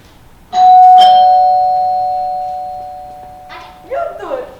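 A doorbell chimes once loudly during a comedy class showcase performance, its ringing tone lingering and fading over several seconds before people begin talking.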